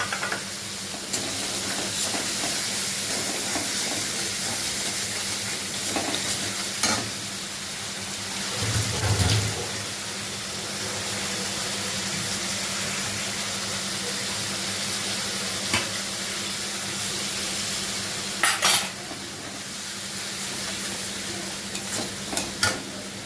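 Onion masala fries in a pan after sour yogurt is added, a soft, steady sizzle with occasional scraping stirs and a few louder clatters.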